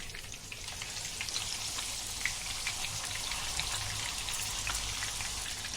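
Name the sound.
surmai fish frying in a frying pan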